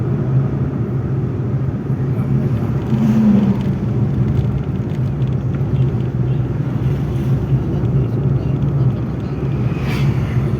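A car carries a family along a road trip with a hired tourist driver at the wheel and a window open, giving a steady, loud engine-and-road rumble that runs without break from start to end.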